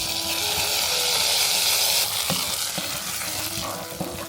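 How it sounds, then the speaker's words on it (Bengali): Cashews and pistachios fry in ghee with a loud, continuous close-up sizzle, broken in the second half by a few sharp stirring clinks and scrapes. "কাজু বাদাম, পেস্তা বাদাম, খুব সুন্দর কালার এসছে। ঘি দিয়ে ভেজে নিতে হবে।"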